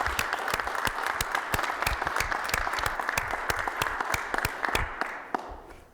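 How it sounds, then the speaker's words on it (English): Applause from a room of people at a county commission meeting for an award recipient, with many hands clapping steadily and fairly softly for several seconds before it thins out. "So if everyone just give him a hand clap on that recipient"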